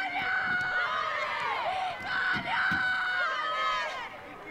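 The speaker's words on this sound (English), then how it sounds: "the loud screams of Italia coming from the players on the sidelines" Players on the sidelines of a women's Italy match scream and shout in long, loud, overlapping bursts, sustained and close, with crowd noise underneath.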